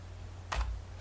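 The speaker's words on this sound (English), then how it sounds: "we're going to type in" A single brief clack of a computer keyboard key, close and distinct, over a steady low electrical hum, with no voices.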